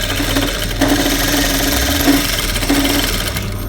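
A sewing machine stitching in the ditch on a small fabric waistband sample, a fast steady mechanical whir close by with slight rhythmic knocking, running continuously without pause or talk.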